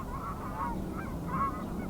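Geese honking on a frosty day with light snow, a few overlapping calls repeating at a moderate distance over steady low background noise.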